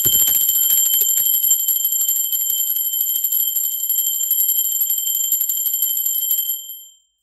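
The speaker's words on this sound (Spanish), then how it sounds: "va campana." A bright, sustained bell tone rings steadily with shimmering overtones, then fades out at the end; no talking.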